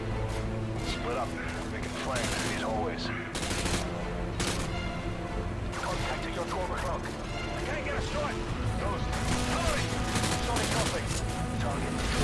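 Call of Duty Modern Warfare 2 gameplay during a prison raid, with dense, continuous automatic gunfire and rapid shots from enemy weapons. It stays loud and busy throughout, with a player talking over it now and then.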